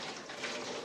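Hot water being poured out of a cooking pan into a sink, a steady broadband rushing splash that holds at an even level throughout, close and alone with no talking.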